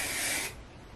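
A single hiss of shine spray misted onto hair, a bright, close burst lasting about half a second before cutting off to quiet room tone.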